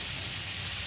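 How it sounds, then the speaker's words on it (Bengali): Shrimp frying in a pan with onion paste, giving a steady, close broadband sizzle that holds evenly throughout, with no voices. "চিংড়ি মাছটা লাল লাল করে ভেজে নেব।"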